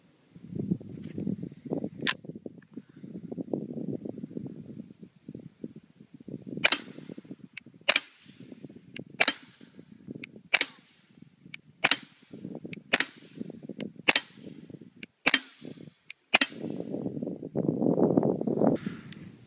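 A Ruger Mark III 22/45 pistol fitted with an AAC Element suppressor fires about a dozen muted, sharp pops at uneven intervals outdoors, each a short crack over a background of rustling and wind.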